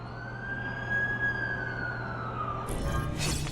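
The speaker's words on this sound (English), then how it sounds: "That's the ambulance I called." An ambulance siren in the video game The Amazing Spider-Man 2 sweeps slowly up and down, steady and fairly close, then cuts off as a sudden burst of noise takes over near the end.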